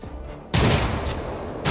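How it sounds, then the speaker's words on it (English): Shotgun blast in Rogue Trader, a single loud, close boom that rings out and fades, followed by the start of another shot. "Shotguns."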